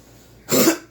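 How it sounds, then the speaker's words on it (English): A single short, harsh cough from someone recovering from an illness, close and loud, bursting out after near silence and fading within half a second. "So I've been coughing a lot."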